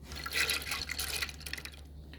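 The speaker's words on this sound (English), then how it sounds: "we're going to just pour our corn right into our pot" Dried hominy corn pours into a cooking pot for a Jamaican porridge, giving a brief, soft rattling patter of kernels that fades out.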